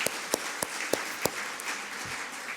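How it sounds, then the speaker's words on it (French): Audience applause at a talk, a handful of sharp separate claps spaced out over a soft steady background, fading off toward the end. "On peut l'applaudir, il est extraordinaire."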